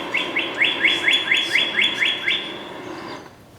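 A loud rising whistle from a bird, a quick series of about ten repeated upward-sweeping notes in steady rhythm, close and clear, then fading to quiet.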